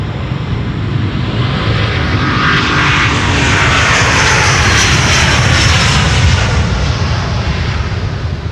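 A large airliner departing Amsterdam Schiphol's Polderbaan runway 36L, its engines a loud, steady, broadband roar that holds at full strength throughout.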